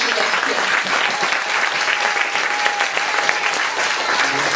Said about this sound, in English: another big round of applause to all the special guests here